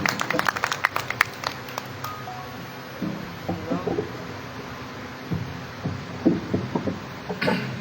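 Scattered clapping from the audience at an Urdu poetry gathering (mushaira) rises briefly at the start and then thins into a few sparse claps, with quiet room murmur and a voice afterward.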